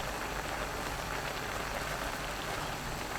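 A pot of garlic scapes bubbles uncovered on high heat, a steady, even hiss of vigorous boiling that continues without change throughout, with no talk.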